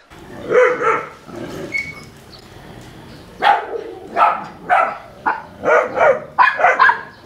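The newest dog of the Barako Pack barks in a series of sharp, close barks, spaced irregularly and coming more often toward the end, with faint yips between them.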